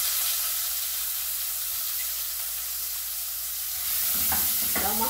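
Onion frying in a pan with garlic that has already browned: a steady, loud sizzle runs throughout, and a few stirring scrapes come near the end.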